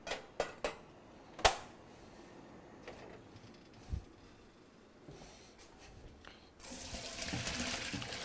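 A kitchen sink tap runs where cut potatoes for fries drain: first scattered clicks and clatters of dishes, then water gushes steadily from the faucet, close and fairly loud.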